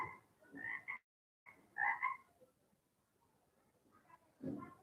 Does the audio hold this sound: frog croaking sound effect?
yes